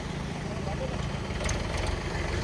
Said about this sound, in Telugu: ఇప్పుడే ట్రాక్టర్ అయితే వెళ్తుంది ఇంకో షెడ్ దగ్గరికి.